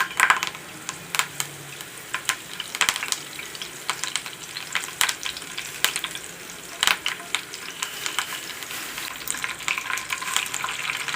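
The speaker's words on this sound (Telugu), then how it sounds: "కరివేపాకు వేస్తున్నాం." Curry leaves sizzle and crackle in hot oil while tempering gongura (sorrel leaf) pickle, a steady close frying hiss with frequent sharp pops and stirring, no voices over it.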